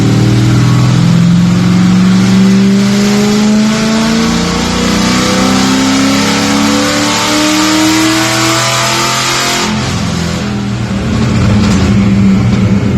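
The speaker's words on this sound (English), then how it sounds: "Keep it in fifth gear if I can. Checking the fuel as I accelerate." Car engine accelerating steadily in fifth gear during break-in, a loud, close, continuous drone rising in pitch, with a brief dip near the ten-second mark before it pulls on again.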